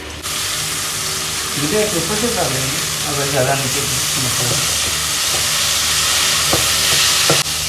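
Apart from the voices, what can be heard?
garlic ginger paste frying in oil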